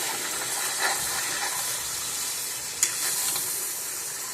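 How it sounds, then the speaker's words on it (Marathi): Paneer cubes frying in hot oil for mutter paneer, a steady bright sizzle and hiss at moderate level with a couple of soft stirring clicks, no talking. "पहिलं त्याच्यासाठी पनीर फ्राय करून घेते जरा तेलामध्ये"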